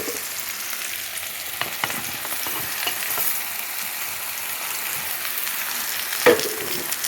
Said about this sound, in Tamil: இப்போ வந்து மிளகாயும் பூண்டும் நல்லா வதங்கிருச்சு இப்போ வந்து நம்ம வந்து தக்காளி போட்டுக்கலாம்